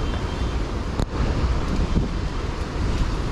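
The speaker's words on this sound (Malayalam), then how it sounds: "കടലിൻ്റെ തിരയൊക്കെ നോക്കി," Sea waves breaking along the shore at Kanyakumari, a continuous roar mixed with heavy wind buffeting the microphone, with one sharp gust-like thump near the start.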